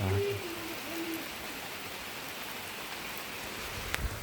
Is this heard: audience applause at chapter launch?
no